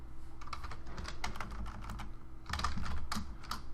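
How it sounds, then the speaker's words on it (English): Someone types on a computer keyboard in quick, uneven bursts of close clicking keystrokes over a steady low background hum, with no voices. "we're just going to type in yellow"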